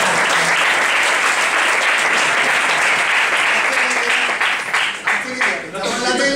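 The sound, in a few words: audience applause at a round table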